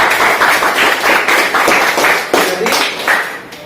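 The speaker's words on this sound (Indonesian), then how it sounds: "Tepuk tangan." Schoolchildren in a classroom clap their hands together in a loud, close burst of overlapping claps that thins out toward the end.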